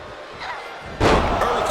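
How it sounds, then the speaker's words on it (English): A loud, heavy slam with a crowd behind it comes from a power slam in the WWE 2K25 wrestling video game. It hits sharply around the middle of the clip and is preceded by quieter game ambience. "Earth-shaking power slam."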